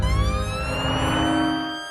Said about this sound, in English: Several armed police cars race to the scene, unsure what they'll find.